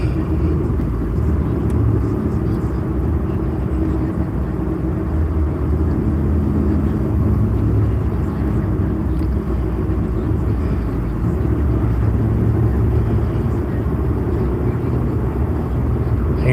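A car drives through the Ozark hills of southern Missouri, its steady low engine and road rumble running unbroken and fairly loud throughout, with no talk over it.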